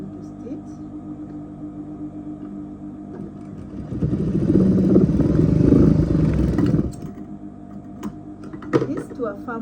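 Sewing machine stitching a double welt pocket, running at a close, steady hum for a few seconds, with talk before and after.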